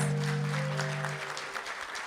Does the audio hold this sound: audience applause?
yes